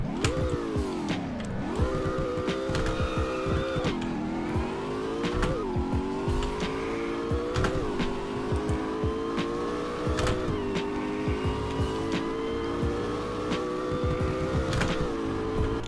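An underrated V8 supercar accelerates hard through a speed test, its engine note climbing through gear after gear with short dips at each shift, loud and close from inside the car.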